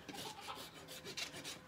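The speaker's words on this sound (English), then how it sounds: "If I can dress this hoof wall here on the medial side a little bit" A rasp files the hoof wall on a mini donkey's hind hoof, a few quick close scraping strokes in an uneven rhythm, faint and without talk.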